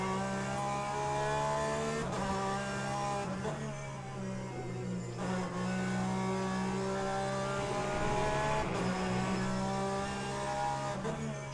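A Porsche race car in the Le Mans Ultimate racing game, its engine droning steadily at high revs with harmonic shifts through gear changes, loud and continuous with occasional brief tire squeal.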